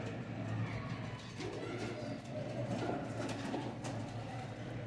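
Rampuri pigeons cooing softly in a loft, low repeated coos over a quiet background hum.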